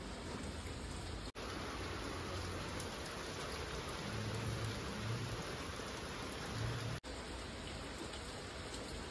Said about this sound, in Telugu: వర్షం చాలా కురుస్తూ ఉందండి